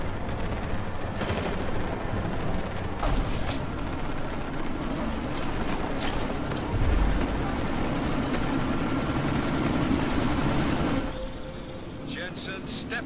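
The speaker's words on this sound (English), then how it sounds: "We can't let that chopper take off, Jensen." Helicopter in Deus Ex: Mankind Divided droning with a loud, continuous rotor roar throughout, mixed with battle noise and sharp bursts of gunfire, under occasional talk, easing off toward the end.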